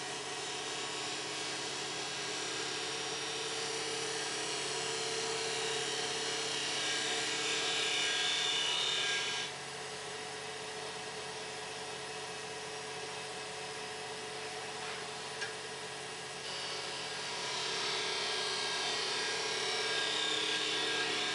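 A wood lathe spins steadily while a gouge cuts a cove into the turning wood, a continuous whirring hum with a scraping cut that brightens and fades.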